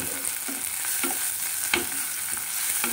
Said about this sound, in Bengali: পেঁয়াজ আর ক্যাপসিকাম থেকে মিলিয়ে নেব।